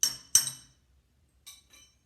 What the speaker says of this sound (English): we're going to give a tap on the drawbar. That's going to knock the compression collet loose